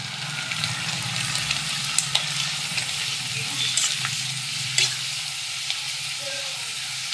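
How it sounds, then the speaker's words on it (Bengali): Sliced potato chips frying crisp in hot oil over low gas, a loud continuous sizzle with occasional utensil clinks and stirring, heard close up without speech. "একটু কড়া করে ভাজবো, এরকম করে ভেজে নেব।"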